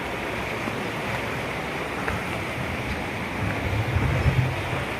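Clear mountain stream current rushing steadily, a dense broadband wash of flowing water with a slight low swell near the end.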